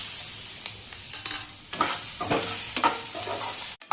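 Onion tossed into a spoonful of gram flour in a hot pan sizzles steadily while a spoon stirs and scrapes in several bursts, ending with a sharp clunk, with no talking.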